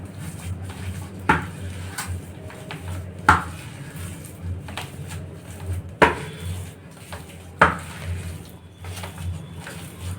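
Radish salad being stirred and mixed in a bowl, with soft scraping and four sharp clinks of a spoon against the bowl spaced a couple of seconds apart, close and quiet.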